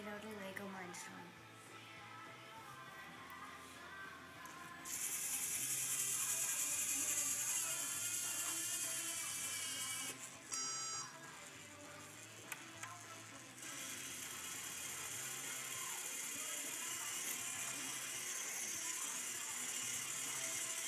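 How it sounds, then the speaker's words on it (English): A Lego Mindstorms printer mechanism whirs and ratchets, with gear clicks and a high buzzing that starts and stops in stretches, running steadily up close. "This is a printer made out of Lego Mindstorms."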